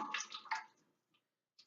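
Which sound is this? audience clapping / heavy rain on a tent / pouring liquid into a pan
pouring liquid into a pan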